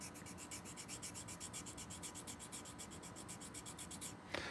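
Quiet, rhythmic scraping of steel wool rubbing back and forth against a glass crystal clarinet mouthpiece, steady strokes close up, ending with a brief knock.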